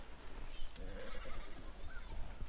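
Horse neighing with clip-clop hoofbeats in Red Dead Redemption 2, a whinny rising over steady hooves on a trail, fairly close and continuous, with no talk.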